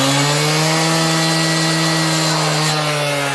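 A power saw cuts through stone veneer with a loud, steady high-pitched whine and grinding that holds continuously from start to finish, with no talking.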